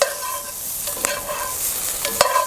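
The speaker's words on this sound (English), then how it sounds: "You do want to sear both sides, but especially pay attention to the cut side." Halved brussels sprouts sear in a pan over a campfire, giving a steady hissing sizzle with a few sharp utensil clinks against the pan, close up and without talk.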